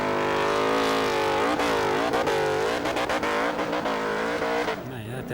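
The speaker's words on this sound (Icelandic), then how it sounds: "Þetta er bara botgjöf, yfirsnúningur og vörn mótorsins í gangi þannig að hann brjóti mótorinn ekki." Race car engine at a motorsport event in Norway, held hard against the rev limiter: a loud, sustained high-revving roar with a wavering pitch, dropping off near the end, with commentary voices mixed in.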